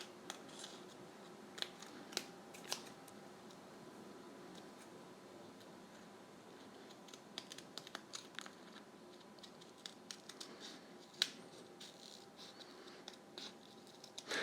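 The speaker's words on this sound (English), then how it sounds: "go along with your scissors and trim off all this excess material that's sticking off around the edges" Quiet, steady snipping of scissors trimming excess white tint mesh lens material for a Spider-Man mask, with irregular sharp clicks and cuts scattered over a soft background hiss; no talking.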